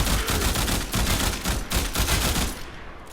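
Burston Prime burst rifle fire in Warframe, a dense, loud run of rapid gunshots that keeps going almost the whole time with only brief breaks, and no talking.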